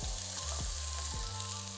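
Finely diced potato and onion sizzle steadily in hot neutral oil in a pan, a soft continuous crackle with no voices over it.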